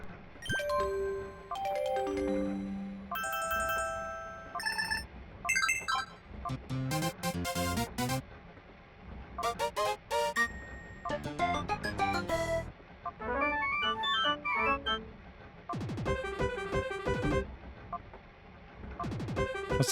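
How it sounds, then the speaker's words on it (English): Phone ringtones in the Pokémon Colosseum video game play in turn, a series of short electronic melodic jingles and chimes with brief pauses between them, clear and fairly loud. "Oh, I can change my ringtone."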